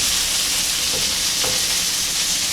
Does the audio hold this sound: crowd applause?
no